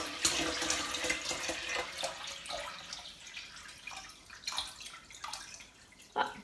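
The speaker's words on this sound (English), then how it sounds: "let's fill it with water. So I just got some plain tap water here" Plain tap water splashes and trickles into a home distiller, gurgling irregularly in moderate bursts with a few sharper splashes near the end.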